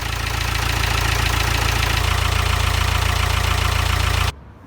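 A Bedford engine on a wooden trad-stern narrowboat built around 1880 runs steadily, a loud low chugging idle with a knocking pulse, then cuts off abruptly near the end, leaving quiet.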